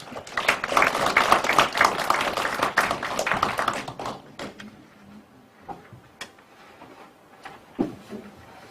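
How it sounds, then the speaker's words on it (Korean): An audience at a policy forum on eco-friendly farming bursts into loud applause for about four seconds, then it stops abruptly, leaving scattered taps and faint room noise. "큰 박수 부탁드립니다"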